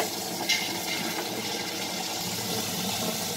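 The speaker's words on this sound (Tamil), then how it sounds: "ரொம்ப கொஞ்சம் கொஞ்சம் தான் தண்ணி விடணும்" Water trickles into a wet grinder as urad dal is ground for idli batter, a steady watery rush with the machine's low hum underneath and a brief splash near the start.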